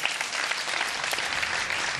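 Audience at a 9-ball pool tour match in Kaohsiung breaks into steady applause after a fine shot, a continuous wash of clapping at moderate distance with no speech over it.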